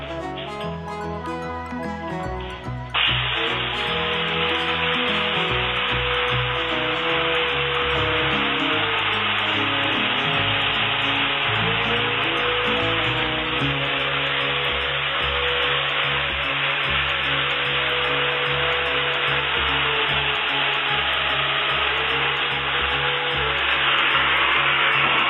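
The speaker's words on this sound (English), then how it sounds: "I'm going to go ahead and I'm going to cut the mortise on both ends." Festool Domino joiner cutting mortises into both ends of a small workpiece clamped to a bench, a steady loud motor whine that starts after a brief quieter moment and holds continuously, with no talking.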